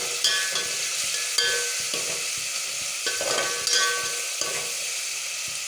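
Onions frying in hot oil with whole garam masala, cloves, cardamom and cinnamon, giving a bright continuous sizzle broken by regular spatula stirring scrapes and taps.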